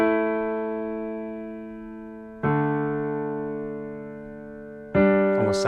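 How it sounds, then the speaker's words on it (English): Piano playing open fifths in the left hand in a George Winston style, three long ringing chords struck about every two and a half seconds, each decaying slowly like a bell or drone, close and solo. "rather than playing a full chord, we're simply going to play open fifths,"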